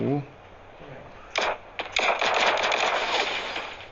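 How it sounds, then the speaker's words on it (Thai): Rapid gunfire rattles in the Sausage Man battle royale game: a couple of short bursts, then a sustained, loud string of automatic shots. A voice is briefly heard at the very start. "มันยิงมาอีกแล้ว"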